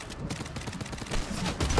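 Gunfire in the video game Fortnite, a rapid burst of repeated shots in quick succession, fairly loud and steady throughout.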